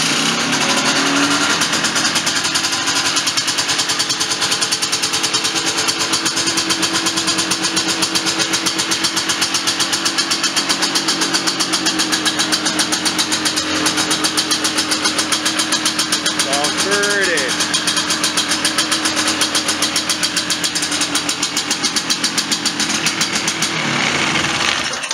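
A 1996 Polaris Sportsman two-stroke ATV engine runs steadily at idle for the whole stretch, loud and close with a constant buzzing drone, and no one speaks over it.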